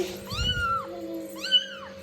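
A small kitten, just pulled out of a refrigerator, gives two clear high meows about a second apart, close and distinct, with faint background noise between.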